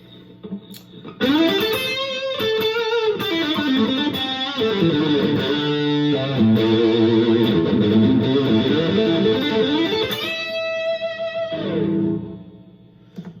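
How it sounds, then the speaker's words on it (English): A Fender American Professional II Stratocaster HSS with the bridge humbucker split to single coil plays a melodic electric guitar phrase of sustained notes and bends, close and clear with no talking. "Now I'm going to split it, split the bridge to single coils."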